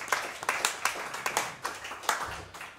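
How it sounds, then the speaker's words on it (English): An audience at Monks jazz club claps after a quintet's live set, with sharp, uneven handclaps close by at a moderate level and no voices over them. "Give yourselves a round of applause."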